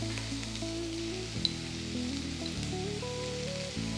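Salted onions sauté in a pan for a roasted-coconut chicken curry, making a soft, even sizzle that runs throughout beneath steady background music.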